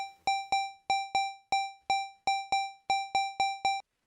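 Sharp, bright electronic pings tap out a 3-in-32 rhythmic loop, about a dozen clean hits in uneven groupings with short decaying tails, loud and isolated with no voices.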